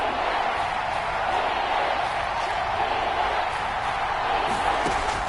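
Stadium crowd roaring steadily in a video game NFL football broadcast as a big third down approaches, a dense, continuous wash of cheering at moderate level with no clear peaks.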